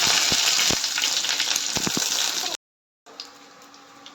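Loud, hissing sizzle of curry leaves and dried red chillies frying in hot oil with popping mustard seeds, a few sharp pops and crackles, cutting out briefly before a quieter sizzle resumes.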